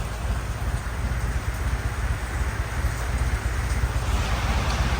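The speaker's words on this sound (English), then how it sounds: "you see the rain definitely came in full force now" Heavy rain falls in full force at Lake Murrells during Myrtle Beach Bike Week, a dense, loud, continuous hiss and patter that carries on steadily throughout without talk.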